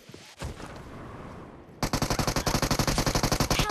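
Rapid automatic gunfire in PUBG Mobile: a single shot, a short lull of background noise, then a loud, evenly spaced burst of about fifteen close shots.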